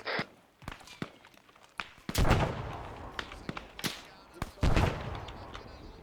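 Gunfire and explosions in the Arma 3 military shooter game ring out as sharp, scattered single shots, with two heavier booming blasts at intervals, all at moderate volume.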